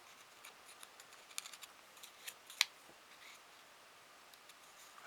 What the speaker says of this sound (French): Je pense que je vais découper pointe par pointe.